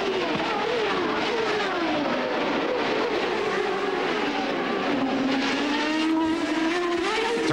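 CART Indy race cars screaming past at racing speed in the 1999 Honda Indy 300 in Australia, a dense, continuous high-pitched engine roar with rising and falling pitch sweeps as the cars accelerate.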